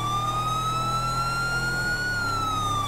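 Police car siren in GTA 5 with the LSPDFR mod during a patrol pursuit: a steady, slowly wavering wail sounding continuously over a low engine and road rumble, loud and alone without talk.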